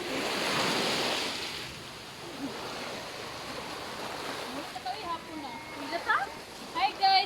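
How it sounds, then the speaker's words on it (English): Ocean surf washes steadily onshore during a seaside nature walk, a broad continuous roar with wind buffeting the microphone and a few faint brief sounds near the end. "As you can see here, this is ocean already."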